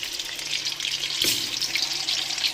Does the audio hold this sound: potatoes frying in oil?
yes